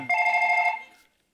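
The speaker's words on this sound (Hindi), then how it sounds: "ओ ब्रो मेरा फोन आए।" A mobile phone rings with a bright electronic tone of steady stacked pitches, one sustained burst lasting about a second before it cuts off, loud and close with no talk over it.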